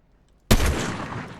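A single loud sniper rifle shot in the video game Fortnite cracks suddenly out of near silence, then a long echoing tail slowly fades over the next second.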